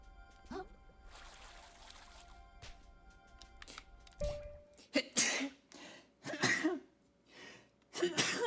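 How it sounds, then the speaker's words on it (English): A few quick bursts sound in short succession in the second half, loud and close, in the manner of a sneeze and its follow-up sputters, after a quieter stretch of faint clicks and rustle. "What a sneeze"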